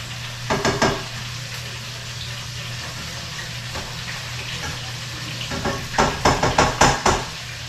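Flounder fries in oil alongside a low, constant hum. Short bursts of bubbling and pan clatter rise twice, the second a quick run of rhythmic clatter near the end.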